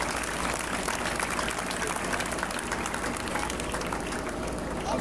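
A church congregation applauding during a crusade service, with dense, sustained clapping filling the space and some voices mixed in.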